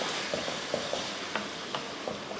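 Yogurt onion gravy simmering in a pan on low heat, a soft steady bubbling sizzle with faint pops and light stirring clicks, quiet and close, with no voices.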